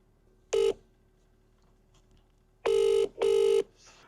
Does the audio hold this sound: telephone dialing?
yes